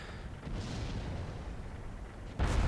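A tank cannon fires in the World of Tanks video game, with a deep, heavy boom at the very end that follows low, rumbling engine-like noise and a fainter muffled thud earlier on.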